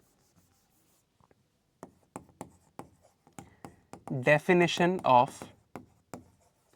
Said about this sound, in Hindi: इसे मैं लिख सकता हूं डेफिनेशन